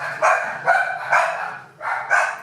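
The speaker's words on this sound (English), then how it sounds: "hence the dog's now going mad" A house dog barks excitedly as someone arrives home, giving five loud, close barks in quick succession with brief gaps between them.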